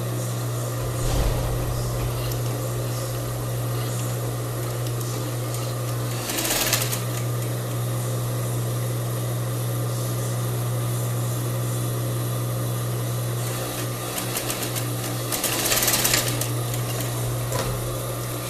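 A sewing machine runs a seam joining the seam allowances of a crepe bubble blouse, a steady mechanical hum with a low motor drone lasting throughout and two louder bursts of faster stitching.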